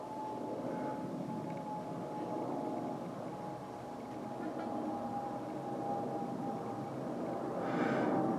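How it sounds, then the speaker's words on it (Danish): An airplane passes overhead at night during full-moon viewing outdoors, a faint steady droning hum that holds for several seconds and swells slightly near the end. "Ja, nu kommer der fly."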